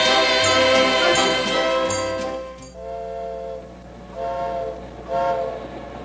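In an animated film, a train with a refrigerated boxcar rolls along with a held horn-like whistle chord that fades partway, leaving a rumbling low drone under a fainter recurring tone.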